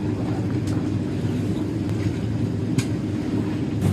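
Sailboat engines run at about 2,000 RPM while cruising in the Bahamas, a loud, steady low drone with constant rumble and faint wind and water noise, no talking.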